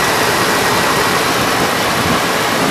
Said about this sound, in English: There it be, 350 non-Vortec V8.